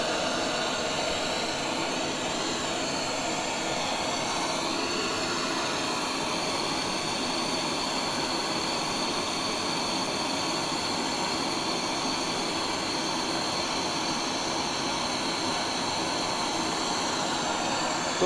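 A small welding gas torch from a compact cylinder set for AC technicians burns at full heat, giving a steady, loud, continuous roaring hiss that holds unchanged throughout with no talk.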